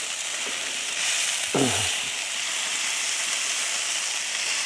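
Chicken gyro pieces sizzle steadily on a Blackstone griddle, a broad continuous hiss of frying throughout with a brief scraping stir near the middle.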